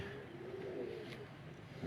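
Lal Pari pigeons coo softly in a low, steady murmur at close range, quiet and continuous with faint background noise and no talking.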